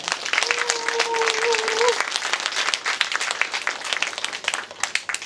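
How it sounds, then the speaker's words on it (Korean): An audience at an academic climate forum claps for a law professor as he is introduced, a steady round of applause filling the room with a brief voice heard early on. "큰 박수 부탁드립니다"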